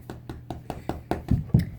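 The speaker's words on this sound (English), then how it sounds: "that's the sound of me banging my squishy" Eight soft, dull thumps in quick succession, gradually growing heavier, as something squishy is banged against a surface close by.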